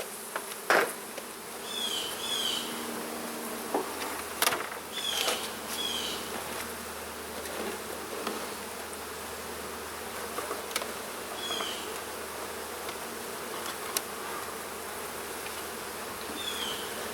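Bees buzz steadily around open beehive boxes, a dense close hum with individual insects zipping past, punctuated by a few sharp knocks of wooden frames.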